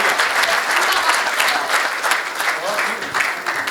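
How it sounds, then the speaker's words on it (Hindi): A live audience at a Hindi comedy poetry show claps in a loud, dense burst of steady applause that continues throughout. "एक बार जोरदार तालियां"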